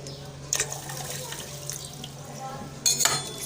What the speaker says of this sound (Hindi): अब हम इसमें पानी ऐड करेंगे 2 गिलास इतना